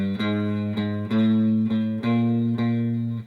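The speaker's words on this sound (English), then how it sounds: "we're going to do a chromatic scale starting on the 6th string, but we're going to hit each note twice with the same down up picking pattern." Electric guitar with light distortion plays a slow chromatic scale from the low sixth string, each note picked twice down-up, giving about six clear steady attacks rising step by step.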